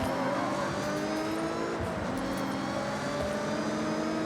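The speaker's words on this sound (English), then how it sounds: "it's still got its supercharger though, just upgraded, so it sounds even louder than it usually does" A supercharged car engine in Forza Horizon 6 roars steadily and loudly with a buzzy supercharger whine, holding a constant high-revving drone throughout with no voices.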